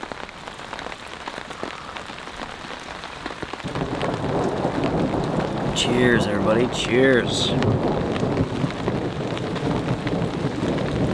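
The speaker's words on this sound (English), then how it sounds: "It is good to be out on a backpacking adventure, out in the rain." Steady heavy rain drums on a campsite during a cold backpacking thunderstorm, with thunder rumbling in and the rain growing louder partway through, while people talk and cheer over the downpour.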